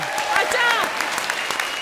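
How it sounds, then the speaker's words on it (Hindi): Live comedy show audience clapping for Kangana, full and steady applause with a voice briefly calling out over it near the start. "और अब कंगना के लिए जोरदार तालियां"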